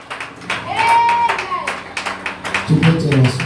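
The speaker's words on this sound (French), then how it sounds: "Est-ce qu'on peut acclamer le Seigneur dans le plus fort?" Church congregation loudly clapping and cheering for the Lord, dense hand claps and shouting voices around a leader speaking, with crowd noise building near the end.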